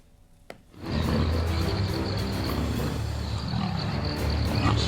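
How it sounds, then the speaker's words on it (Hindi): Two leopards fighting in the Bageshwar area of Uttarakhand, with loud, continuous low growling and snarling that rises after a brief quiet start and carries on without a break, with no talk. "उनके गुर्राने की आवाज दूर तक सुनाई दे रही है"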